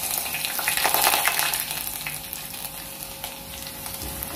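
Chopped shallots frying in hot oil for a Kerala-style coconut fish curry, a steady loud sizzle and crackle running throughout with a busy burst near the start, no voices.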